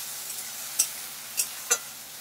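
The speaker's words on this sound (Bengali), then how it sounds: "দিয়ে এইভাবে একটু নেড়ে নেব।" Lote fish fries in a pan with chilli powder, giving a soft steady sizzle with three short, crisp scraping clicks as a utensil stirs it, close and fairly quiet.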